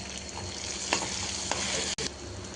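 Food frying in oil in a pan gives a steady, dense sizzle, with a few soft stirring scrapes and one brief dropout near the end; no voices.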